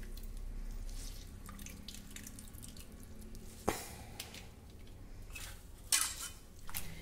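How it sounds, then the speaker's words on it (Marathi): Grated potato being squeezed by hand to press out water, a wet dripping and trickling with a couple of sharp splashy bursts, close and fairly quiet with no talk. "आता आपण हा घट्ट पिळून यातील पाणी काढून टाकूया"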